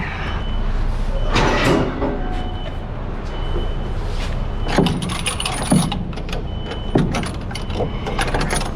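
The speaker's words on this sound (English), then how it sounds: "I'll pull the handle here, close the door." A semi truck trailer door is pulled shut at a distribution center, giving a few loud metallic clunks and rattles near the midpoint over a steady idling engine rumble.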